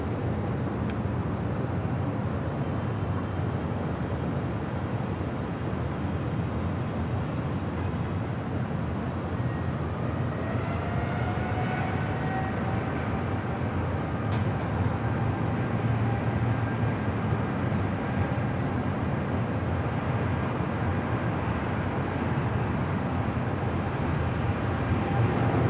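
An airliner rolls down runway 25 Left at Los Angeles International Airport, a steady broad engine roar holding loud throughout with a rising whine partway through.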